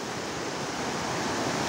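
Rushing river water roars near Trikhandi in Hetauda, a continuous broadband wash that stays steady and close for the whole short stretch, with nothing else over it.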